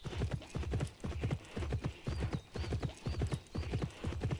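Horse hooves clip-clop in a steady, even rhythm from the horse-riding game Pippa Funnell Ranch Rescue, fairly close and quiet, with faint high chirps in the background.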